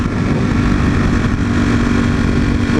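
A V4 motorcycle engine runs at high revs, a loud, steady, continuous drone with no pauses throughout.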